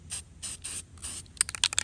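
Gloss red spray paint hisses out in four short bursts as a base coat goes onto a Christmas candle diorama, then a quick run of sharp clicks and rattles follows.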